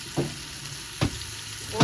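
Bay leaves and a cinnamon piece sizzling in hot oil for Saudi-style biryani, a steady close sizzle broken by three sharp spoon scrapes at a regular pace, no voices.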